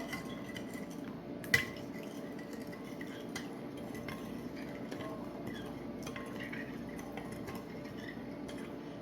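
Yeast mixture for Amish sandwich bread being stirred, a steady quiet scraping and light clinking of a utensil against the container, with one sharper clink near the start.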